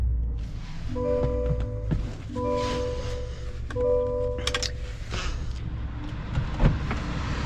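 A Chevrolet ZR2 sets off: three evenly spaced electronic warning chimes ring over a low, steady engine rumble heard from inside the cabin, ending with a soft knock.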